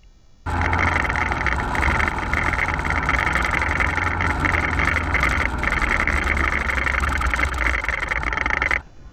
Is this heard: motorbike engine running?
yes